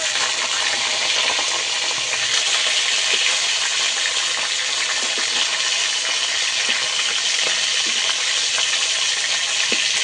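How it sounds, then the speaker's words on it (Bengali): Pieces of tul bele fish fry in hot oil, giving a loud, continuous, even sizzle that runs for the whole stretch with no voices. "অন্য পিসটাও ভালো করে ভেজে নেব।"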